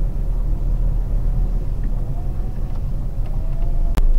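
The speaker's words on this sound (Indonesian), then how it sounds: "ternyata di dekat lampu merah pabrik gula cukir ini macet ya teman-teman ya, di sini itu ramai ternyata" Steady low rumble of road traffic in a jam near a red light by the Cukir sugar factory in Jombang, East Java, with idling car and motor engines continuous throughout and a brief sharp knock near the end.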